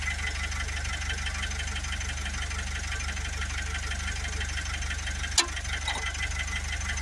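Vauxhall Vivaro van diesel engine idling with a blocked particulate filter, a steady low rumble and even knock that run unbroken, with one sharp click partway through.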